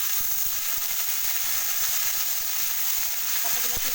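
Pumpkin pieces fry and sizzle steadily in a pan while being stirred, a continuous bright hiss with small scraping knocks throughout.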